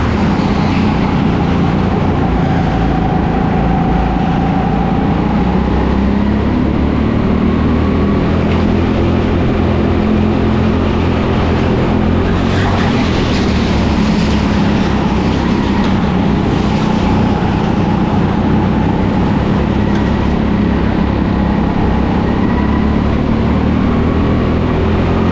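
Go-kart engine noise at TeamSport Sheffield, a steady loud drone with no speech, pitch rising and falling a little as the kart laps the indoor circuit and passes back markers.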